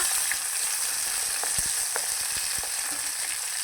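Onion frying with cashews in oil inside a pressure cooker gives a steady, close sizzle, broken by a few sharp scraping clicks from stirring.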